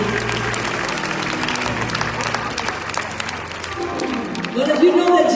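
A crowd claps steadily at a live gospel concert, a dense wash of many hands with some voices mixed in, swelling louder near the end.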